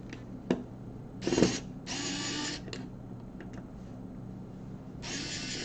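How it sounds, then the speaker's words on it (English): A power screwdriver undoes screws while a storage unit is taken apart, sounding in several short whirring bursts separated by pauses, with small clicks and clunks of handling between them, close and fairly loud. "So you're just going to use the screwdriver and undo them all."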